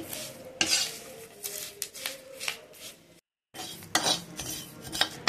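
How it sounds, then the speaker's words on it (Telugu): Curry leaves frying in a little oil in a pan, with scraping and stirring clatter over a light sizzle, close and fairly busy, cut by a brief silent break before resuming. "కొంచెం ఆయిల్ వేసుకొని కరివేపాకు కూడా ఇట్లా వేయించుకోవాలండి."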